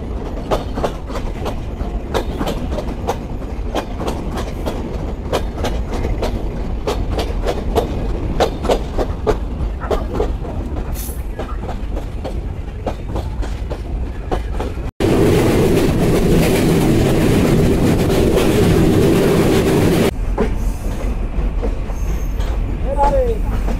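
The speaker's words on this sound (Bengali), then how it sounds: "আন্তনগর কপোতাক্ষ এক্সপ্রেস ছেড়ে গেল যশোর রেলওয়ে জংশন স্টেশন থেকে" The Kapotaksha Express intercity train running at night between Jessore junction and Noapara, with steady rhythmic wheel clatter over rail joints and a loud roar that swells midway, heard from on board.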